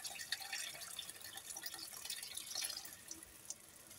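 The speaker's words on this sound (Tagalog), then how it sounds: "Ito guys yung sabaw ng ulo ng hipon. Lagyan na natin." Broth made from shrimp heads pours into a cooking pot for pansit malabon, giving a steady, fairly faint liquid trickle and splash with small drips scattered through it. No one speaks.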